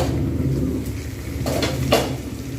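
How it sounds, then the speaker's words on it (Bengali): A glass lid comes off a pan of frying chicken curry with a couple of brief clinks over a steady low sizzle and kitchen hum, close and moderately loud. "কাঁচের ঢাকনা, খুব সাবধানে রাখতে হবে, না হলে কিন্তু মুশকিল।"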